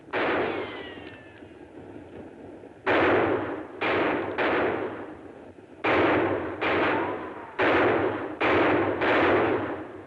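Rifle shots ring out in a Western ranger standoff on a ridge, about seven loud, sharp reports spaced a second or so apart, each with a rolling echo decay.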